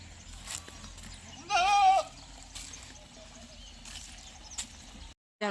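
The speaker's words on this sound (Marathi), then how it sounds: "त्याच्यामुळं शेळ्या ओरडायला लागले" A single wavering goat bleat rings out clearly against a quiet outdoor background with faint scattered noises.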